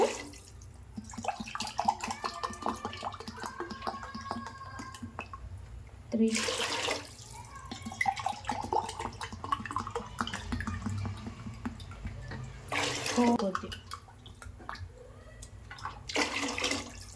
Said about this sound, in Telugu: సిక్స్ గ్లాసెస్ ఆఫ్ వాటర్ని తీసుకున్నాం వాటర్ బాయిల్ అయ్యే వరకు మనం దాన్ని మంచిగా హీట్ చేసేసుకోవాలి